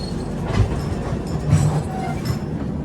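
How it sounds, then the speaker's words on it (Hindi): The Kanpur Shatabdi Express rolls along with a steady rumble and rhythmic clickety-clack of wheels heard close from inside the train, with no talk. "ट्रेन चलने के बाद रुक गई"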